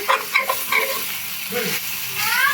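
Onions and green chillies sautéing in a pan, with a loud, close sizzle and a few quick scraping stirs.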